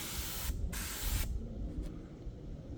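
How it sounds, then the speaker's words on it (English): A paint spray gun lays a coat on a 460 engine for a rusty Ford F250, two short bursts of hissing spray close by, each about half a second long, then quieter shop background. "We got some spray on there."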